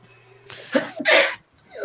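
A single sharp, close sneeze with a short intake before it, followed by a brief moment of speech.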